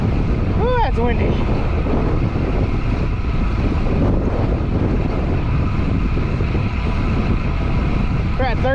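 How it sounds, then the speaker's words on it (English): Strong, constant wind roars and buffets across a GoPro Hero 8 mounted on a road bicycle riding a Red Rock loop near Las Vegas, loud and unbroken, with brief chirps near the start and end. "Ooh, that's windy."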